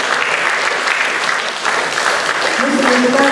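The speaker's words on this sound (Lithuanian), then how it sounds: "Plojimais kviečiam iš sceną." Spectators at an accordion festival in Biržai, Lithuania applaud to welcome accordionist Stasys Kūrinas onto the stage, a steady wash of clapping with a voice and a few faint instrument tones emerging near the end.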